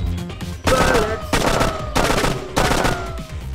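Loud, close bursts of gunfire in ARMA: Cold War Assault, three or four heavy, clustered volleys with ringing, whistling overtones that keep sounding between the shots.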